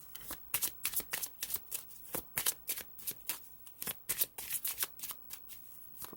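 Tarot cards shuffled by hand during a reading, a steady run of crisp riffling bursts repeating in quick rhythm, close and fairly quiet, with no talking.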